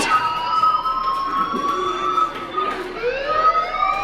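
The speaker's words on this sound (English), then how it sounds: "Hey, do you hear that fire alarm?" A fire alarm in the Life Is Strange game wails steadily for the whole stretch, loud and insistent, its tones holding and then bending upward near the end.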